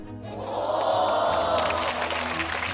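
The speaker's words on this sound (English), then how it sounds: "Let's get a round of applause for that" A cheering, clapping crowd swells loudly and then eases off slightly, a canned round of applause with a roar over steady low hum.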